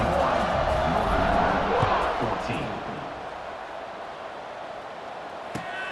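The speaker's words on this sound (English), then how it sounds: "this crowd is buzzing after that last score" Football stadium crowd at a bowl game buzzing after a score, a loud broad roar of cheering that swells early then slowly fades, with a commentator talking over it.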